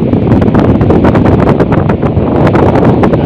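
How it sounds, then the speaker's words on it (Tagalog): Strong wind at a fishing area in Harvey Bay buffets the microphone in a loud, continuous rush with gusty rumbling and flutter, no voices over it. "masyado. Mas hangin."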